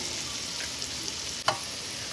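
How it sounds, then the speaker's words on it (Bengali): Steady oil sizzle of pumpkin flower fritters frying, a continuous crackling hiss with one brief sharper pop near the middle. "এক এক করে এইভাবে সব কুমড়োর ফুলগুলো ভাজা করে নেবো"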